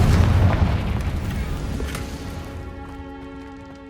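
A Confringo blasting curse detonates in Hogwarts Legacy, a loud booming explosion that decays slowly into a fading rumble with a lingering tonal tail.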